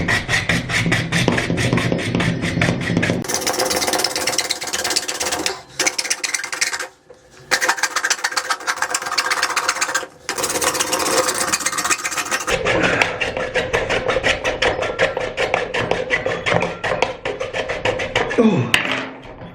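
A hand saw rasps back and forth in a steady rhythm, cutting open a roly-poly toy, close and scratchy, with short pauses between bursts of strokes.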